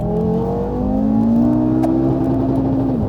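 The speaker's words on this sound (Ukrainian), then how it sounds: "Ми їдемо 4 тисячі обертів, друга передача. Ми йдемо на газу і газ полом." An Audi RS3 8V2 tuned past 700 horsepower holds about 4000 rpm in second gear at full throttle, a loud, sustained engine drone with rising whine, close and alone.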